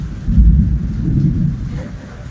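Rain falls steadily through a rainy spell while a deep, rolling thunder rumble swells early and lingers, loud and continuous, with no voices.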